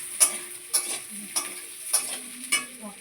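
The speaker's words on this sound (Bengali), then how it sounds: "কড়াইতে আমি একটু কাশ্মীরি লঙ্কার গুঁড়ো তেলের উপর দিয়ে দিলাম" Kashmiri chili powder fries in oil in a wok, a soft continuous sizzle broken by about five evenly spaced scraping stirs, close and fairly quiet.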